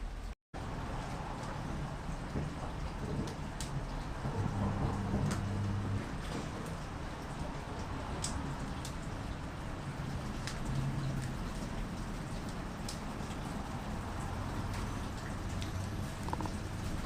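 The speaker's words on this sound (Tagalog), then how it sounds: "Ayun na. Umuulan na talaga mga kabayan." Steady rain falling and pattering on surfaces outdoors in Japan, a continuous close wash of drops with occasional sharper ticks, running unbroken with no talk.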